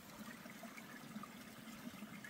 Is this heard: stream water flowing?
yes